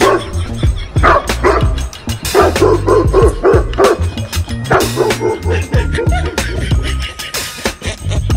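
A dog barks repeatedly in quick, uneven bursts, close and loud, with a few higher yips mixed among the barks.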